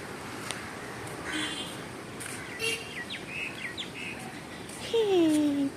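Birds, including a myna, chirping around a neem tree: scattered short tweets over a soft outdoor hiss, with a clearer, louder descending call near the end.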